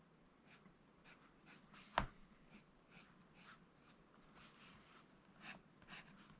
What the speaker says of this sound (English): I'm using a Microtomic 4B pencil for this.